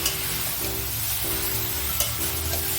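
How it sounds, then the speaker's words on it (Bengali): Boiled chickpeas hit a hot pan and sizzle in a steady broadband hiss, with a few faint stirring scrapes and a low background hum running underneath. "সেদ্ধ করা ছোলাটা আমি দিয়ে দিলাম।"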